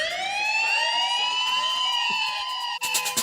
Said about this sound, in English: Do I need to play a siren?